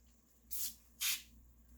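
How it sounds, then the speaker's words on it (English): Spray Way glass cleaner is sprayed from an aerosol can in two short hissing bursts, the second slightly stronger, heard close but soft against a quiet room. "So I spray a little"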